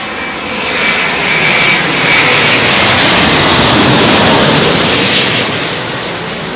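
A Virgin Atlantic Boeing 787-9 lands at London Heathrow on runway 27L during thunderstorm weather. A loud, broad jet roar swells over about a second, holds steady, then eases slightly as the aircraft passes, with no voices.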